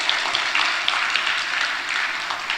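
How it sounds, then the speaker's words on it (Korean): Steady applause from a church congregation, a dense continuous patter of clapping filling the room at moderate volume with no voices over it. "여러분에게 제가 박수 쳐드릴게요."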